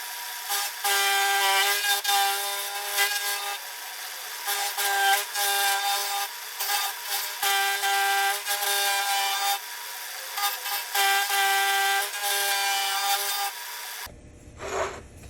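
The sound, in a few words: milling machine milling forge-welded metal pieces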